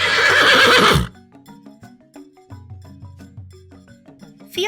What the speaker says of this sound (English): This is Fiona the Horse